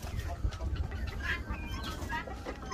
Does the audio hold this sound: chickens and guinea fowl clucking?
yes